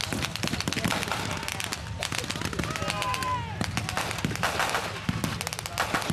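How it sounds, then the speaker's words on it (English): Blasts from German stick grenades (potato mashers) thrown during a WWII battle reenactment of Sicily fighting, a dense run of sharp bangs and gunfire cracks over loud continuous battle noise, with voices shouting underneath. "German potato mashers are being thrown, and that's what the Germans would use"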